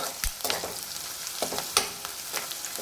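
Onions and green chillies frying in a pan with curry leaves, giving a steady low sizzle broken by several sharp scraping stirs of a spoon, close and moderately loud, with no voices.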